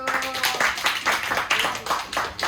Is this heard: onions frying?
no